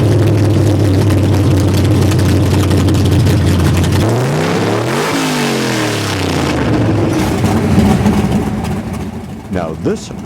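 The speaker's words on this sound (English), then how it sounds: "this sound of thunder is compliments of a big bad Boss 429" A big Ford FE-family Boss 429 V8 at a drag race event rumbles loud and close, holding a steady lope before two sharp throttle blips sweep up and fall, then settling back amid crowd noise.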